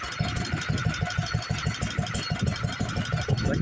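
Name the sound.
engine running a lineshaft machine shop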